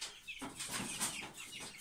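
A month-old young rooster of the Moscow line clucks softly in a quiet coop in a short run of faint chirpy calls, heard alone.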